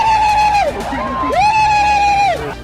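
Female students and staff at a girls' hostel in Srinagar shout and yell to chase off a bear, with a few raised, sustained cries rising and falling loudly over a crowd's background noise.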